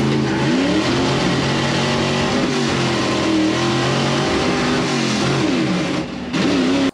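Drag racing car launching off the line at excessive RPM, a loud sustained engine roar with rising and falling revs close by, briefly dipping near the end.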